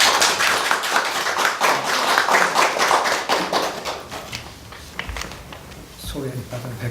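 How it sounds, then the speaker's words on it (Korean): An audience at a book concert bursts into dense, loud applause to welcome a professor, the clapping holding strong for several seconds and then thinning into scattered claps and room noise. "큰 박수로 환영해 주시면"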